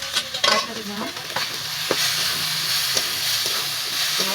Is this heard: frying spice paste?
yes